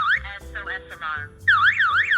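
A PG-109 alarm host sounds its SOS siren: a loud, close electronic wail that sweeps up and down in rapid repeating cycles, opening with choppier warbles before settling into a steady rising-falling pattern.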